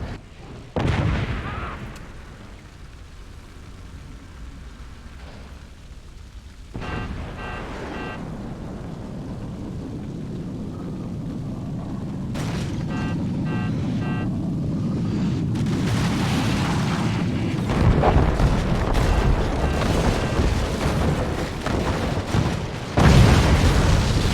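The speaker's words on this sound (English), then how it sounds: "Howitzer taking the shot here." Howitzer shots and explosions from the naval-fort strategy game Forts, played in a tournament match: repeated loud booms and rumbling blasts over a sustained roar of battle that builds toward the end.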